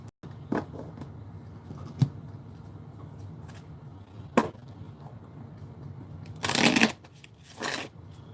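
A deck of chakra cards being shuffled, with soft riffles and clicks building to two loud, dense bursts of rapid card flutter near the end, close and alone with no talk.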